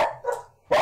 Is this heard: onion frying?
no